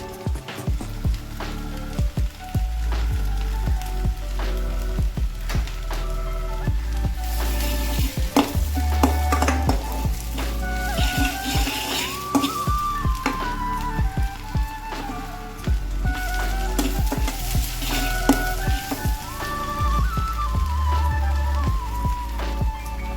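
Sliced onions sizzle and fry in a pan while being stirred, with steady crackling and frequent scraping stir strokes throughout, close and continuous, for a tripe curry.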